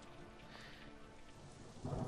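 Rain falling in the video game Painkiller, a soft, steady hiss with a low rumble underneath, swelling louder in the final moment.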